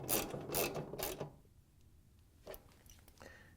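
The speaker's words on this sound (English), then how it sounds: "we can use our 1/2-inch socket and ratchet to put the bolts in all the way around the" A ratchet with a 1/2-inch socket clicks as bolts are tightened on a washing machine tub, three quick bursts of ratcheting followed by a softer click or two, close and moderately loud.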